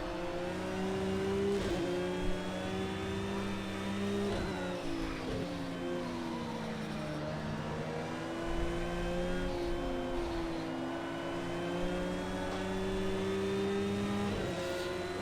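Porsche 911 GT3 R race car engine in Project CARS 2 at Hockenheim GP, a steady loud high-revving drone with sustained harmonic pitch shifting through gear changes across the whole stretch, no talk.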